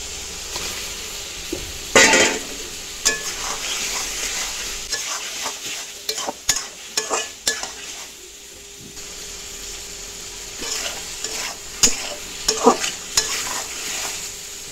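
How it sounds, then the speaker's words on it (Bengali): Tomatoes hit a pan of fried, cooked-down spice paste for a Bengali fish dish, giving a steady close-up sizzle with repeated spoon scrapes and stirring clatter against the pot. "মশলা কষানো হয়ে গেছে, এখন টমেটো দিয়ে দেবো।"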